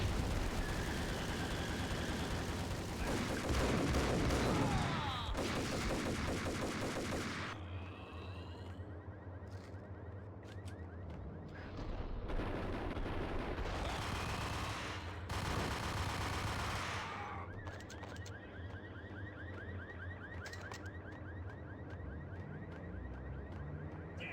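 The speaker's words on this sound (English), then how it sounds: "got shotgunned again" Shotgun blasts and gunfire from the video game Max Payne, loud bursts of shots in clusters with a busy game soundscape between them.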